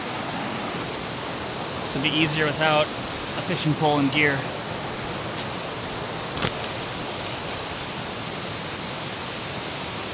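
A waterfall beside a river in the woods gives a steady broadband rush of falling water that fills the whole clip, with someone talking briefly over it near the start.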